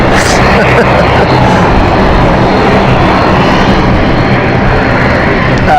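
A Luxair airplane engine roars loud and steady at London City airport, a broad continuous jet rumble and whine that fills the whole stretch, close by and without pause.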